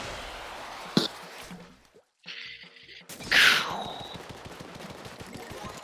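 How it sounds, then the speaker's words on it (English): In Splatoon 2, a character slams into the ground after a fall from height, a sharp wet splat that rings out loudly amid game effects and brief gaps of silence. "That's the sound of Jughead splatting into the ground"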